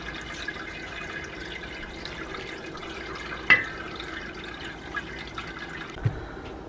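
Pork broth drips from strained, shredded pork: soft, irregular drips and a few sharper taps over a faint, steady background, with no voices.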